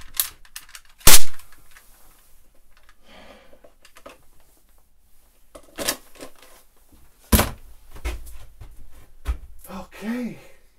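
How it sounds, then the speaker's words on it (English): Toy cap gun fired in a few sharp, loud cracks spaced several seconds apart, with quieter handling noise and faint background sounds between shots. "Shot a cap gun for Contraforce."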